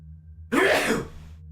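A single sharp sneeze bursts out close by, loud and breathy, then fades into quiet room hum.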